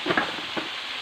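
Onions sautéing with a pinch of salt in a pan for chicken curry, a brief soft sizzle with a couple of stirring scrapes near the start.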